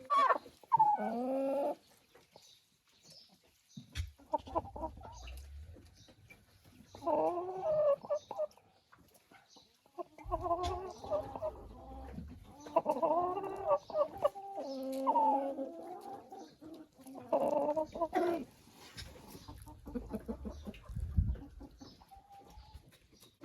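Crested chickens in a coop cluck and murmur in repeated bursts, fairly close, with short pauses between and occasional low bumps underneath.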